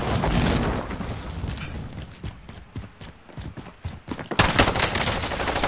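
Machine gun and pistol fire in Warzone, scattered sharp shots and rapid bursts over a busy rumbling background, getting louder toward the end.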